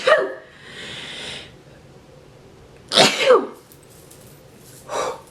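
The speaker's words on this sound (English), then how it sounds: "tweezing my eyebrows always makes me sneeze" One person sneezes twice while tweezing their eyebrows, a sharp close burst near the start and a louder double burst about three seconds later, with a softer breathy sound after it, all without talk.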